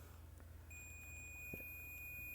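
A digital multimeter set to continuity mode gives a steady, high-pitched electronic tone when its probes make a connection, faint and close, holding for nearly two seconds over a low hum with no talk.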